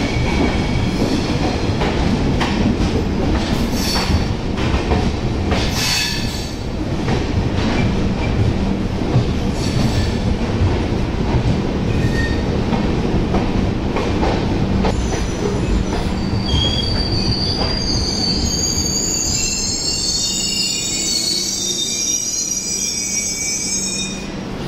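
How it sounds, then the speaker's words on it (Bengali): The Garib Rath Express pulls into Ajmer Junction in Rajasthan, a loud, constant rumble of rolling wagons with clicking wheels and rising metallic brake and wheel squeals near the end, with no talking. "ট্রেন কিন্তু ডট টাইমেই ঢুকলো।"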